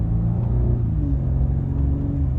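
A 2019 Porsche Cayenne's engine gives a deep, steady rumble up close, with a brief shift in pitch partway through the short burst and no talking.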